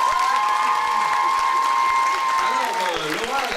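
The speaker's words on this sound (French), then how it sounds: "ça mérite des applaudissements." An audience at a fashion show applauds, a dense steady wash of clapping that holds throughout and eases slightly near the end, with a sustained tone and a voice in the background.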